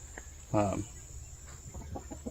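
A hen lets out one clear, loud cluck, followed by softer scattered clucks against a quiet background with a faint insect hum.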